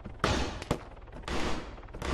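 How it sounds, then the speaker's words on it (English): Bursts of gunfire in the military shooter Arma 3 sound in a few sharp, loud cracks and short volleys with rumbling tails and no voices. "I heard a little bit of gunfire out here"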